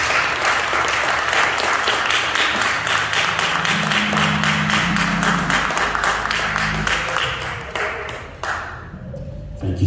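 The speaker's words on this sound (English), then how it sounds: "let's clap our hands for the Lord Jesus" A church audience claps hands together in sustained, dense applause during a worship service, loud and close, with sustained organ or keyboard tones underneath, the clapping thinning toward the end.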